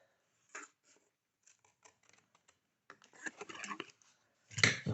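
Scissors snip paper while a pop-up box is being made, first as scattered single sharp cuts and then a quicker run of snips, followed by a louder rustle at the end.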